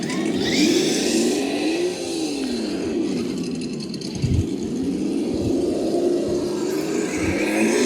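An Axial SCX6 RC crawler fitted with an ESS sound module drives in second gear, its simulated engine note rising and falling in a steady, loud drone with a few low thumps. No one speaks.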